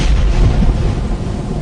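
Thunder in a thunderstorm with hail and lightning, part of a Bible narration on the plagues of Egypt: a deep, continuous low rumble that rolls loud and near throughout, with no voice over it.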